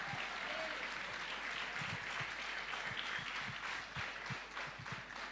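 A church congregation claps in scattered, uneven bursts over a low crowd murmur, fairly faint and distant throughout.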